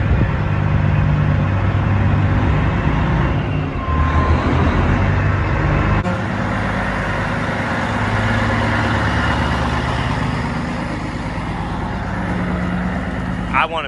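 Steady, loud diesel engine rumble of a combine harvester alongside an 8420 tractor before cutting rye, idling continuously up close, with a slight shift in tone partway through.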